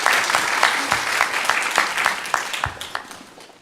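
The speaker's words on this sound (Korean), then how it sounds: "우리 영광의 박수를 우리 하나님께 올려드리겠습니다." A church congregation at a Sunday worship service claps steadily together, a moderately loud, rhythmic wash of many hands that gradually thins and fades.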